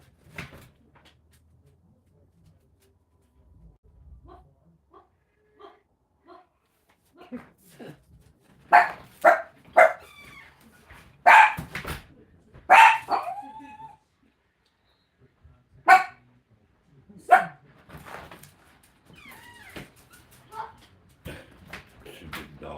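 Dogs bark outdoors in a rural spot: a few faint barks at first, then a cluster of loud, sharp barks and yips, with quiet stretches between the later ones.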